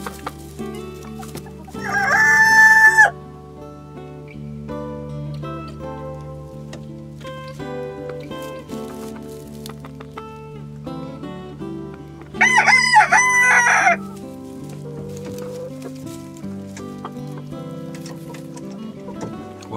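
Two loud rooster crows ring out nearby, separated by a long stretch of steady hen clucking and murmuring from a flock of Green-legged Partridge chickens in a henhouse.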